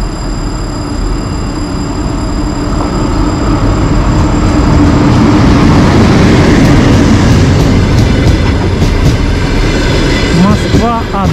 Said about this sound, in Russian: Итак, встречаем и провожаем поезд.